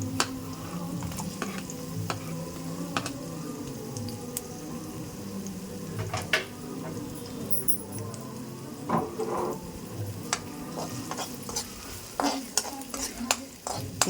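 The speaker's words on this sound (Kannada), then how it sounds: "ಆನಿಯನ್ ಹಾಕಿ ಒಂದು 2 ನಿಮಿಷ ಫ್ರೈ ಮಾಡ್ಕೊಳ್ಬೇಕು." Cubed onions fry with green chillies in a pan while being stirred, making a steady low sizzle under frequent scraping and clinking of a utensil against the pan, close up with no speech.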